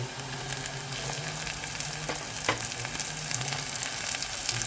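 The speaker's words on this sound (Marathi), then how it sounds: "या स्टेजलाच आपल्याला यामध्ये आता टोमॅटो ॲड करायचे।" Chopped tomatoes hit browned onions in a hot pan of oil, giving a steady, close, dense sizzle and fry with a couple of brief scraping stirs and no talking.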